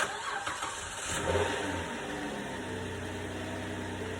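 A Dodge Avenger 2.7-liter engine turns over and catches, then settles into a steady idle hum, fairly quiet and close.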